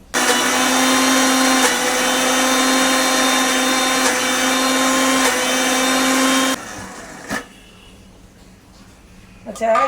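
Blender grinding taro into a paste with a little water, a loud, steady whirring drone that runs for several seconds and then cuts off abruptly, followed by quieter handling noises.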